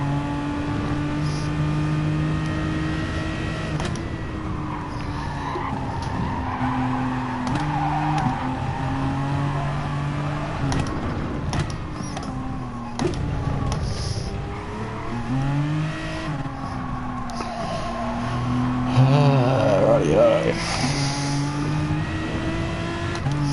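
Race car engines in a PS4 racing video game, loud continuous revving that rises and drops through gear changes and braking, with tyre squeal at times and no talk.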